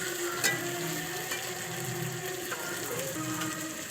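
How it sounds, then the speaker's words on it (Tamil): Chopped tomatoes sizzle and fry in a pan while cooking chicken gravy, a soft steady crackle with occasional scraping stirs, fairly quiet and without talking. "கொட்டி அதையும் நல்லா கொஞ்சம் நல்லா வதக்கிடுவோம்."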